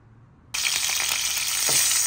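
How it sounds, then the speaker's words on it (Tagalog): Chopped garlic hits hot oil for Filipino ginisang ampalaya, bursting into a loud, steady sizzle after a brief quiet start, with a soft stir or scrape near the end. "Inuna natin yung gisa ang ating bawang."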